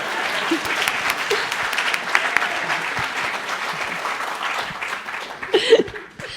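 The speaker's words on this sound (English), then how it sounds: "She deserves a round of applause to start." Audience applause at an optometry school graduation awards ceremony, a sustained wash of clapping from a large hall crowd with scattered light laughter, swelling briefly before fading near the end.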